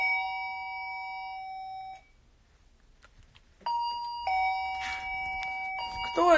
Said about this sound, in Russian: Да что ж такое, звонок-то?